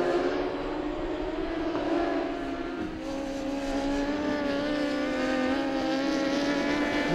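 Loud, sustained high-revving engine roar from superbikes such as a Honda CBR1000RR racing in the Brazilian SuperBike Series, steady and continuous with a slight pitch shift partway through, no talking.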